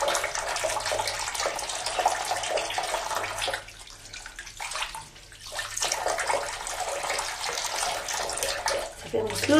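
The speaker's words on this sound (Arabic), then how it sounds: "نغسل جبهتي" Tap water runs steadily into a sink while someone washes their face, a continuous close splashing that briefly eases midway before resuming.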